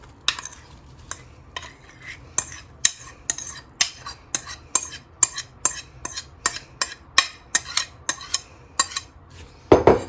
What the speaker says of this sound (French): Alors là, on va bien mélanger notre pâte avec nos pommes